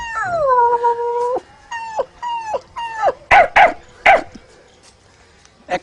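A man vocally imitates a dog, starting with drawn-out whimpering howls, then a series of short yips and sharp bark-like calls in a loose rhythm. The imitation is close and clear with no other talk.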